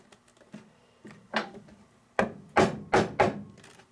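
A glued wooden beehive board, resized from plywood, is pried apart with a series of sharp knocks and cracks, starting soft and scattered and then building into several loud close snaps near the end.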